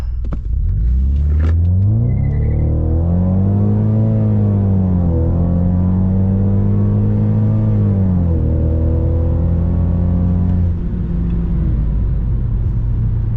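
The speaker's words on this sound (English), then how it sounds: "we will try a pull from the stop, go through a few gears" A turbocharged Ford Ecoboost Mustang pulls hard from a standstill through several gears, loud and close, with the engine note climbing in rising sweeps and dropping at each shift.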